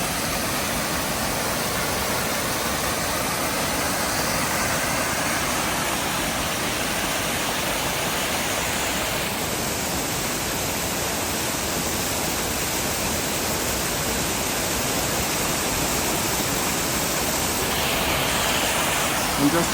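Mountain water rushes from a waterfall in the Dolomites of South Tyrol, a loud, steady broadband roar that fills the whole stretch without pause.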